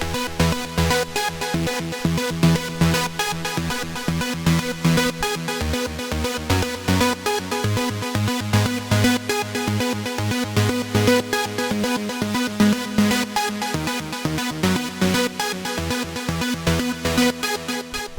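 A melodic house lead synth repeats a steady rhythmic pattern over a full, dense mix with a pounding beat, loud and continuous throughout.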